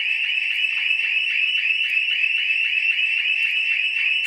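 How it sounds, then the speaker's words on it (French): A building fire alarm rings steadily and loudly with a shrill, continuous electronic tone that pulses in a rapid regular pattern, filling the room with no voices over it. "Voilà la deuxième alarme."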